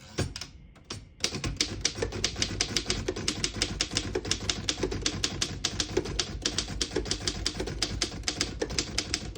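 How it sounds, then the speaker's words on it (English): Typing on a 1912 Underwood No.5 antique desktop typewriter: after a brief pause, a rapid, regular run of sharp, loud mechanical key strikes clatters close by, one after another. "I'll type a sentence on the next line."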